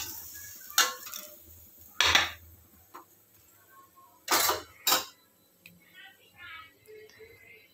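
Fried bitter gourd is moved onto another plate, giving a few sharp, close clinks and scrapes of utensils against dishes spread across the moment, with quiet talk in between.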